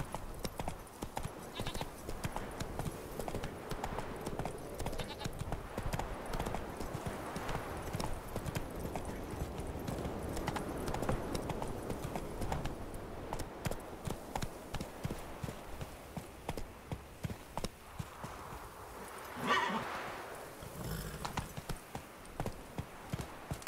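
Horse hooves in The Witcher 3, a steady rhythmic clip-clop at a trot or gallop, close and continuous, with a brief neigh near the end.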